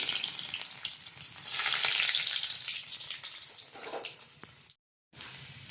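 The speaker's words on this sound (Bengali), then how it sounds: "এটা ভাজবো আমি সর্ষের তেলে রসুনগুলো দিয়ে দিলাম" Garlic frying in hot mustard oil, a close crackling sizzle that swells for a moment, with light stirring taps, then breaks off into a brief silence before resuming.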